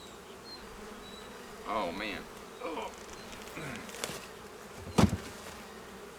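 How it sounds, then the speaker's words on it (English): Honey bees buzz in a dense, steady drone around an early-spring hive, close by, while a person utters brief exclamations and a sharp knock sounds near the end. "how many bees are flying."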